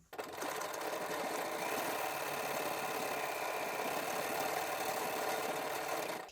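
A Bernina B535 sewing machine runs a short stitch in one steady, continuous whir of fast motor and needle rattle, close up and alone for about six seconds.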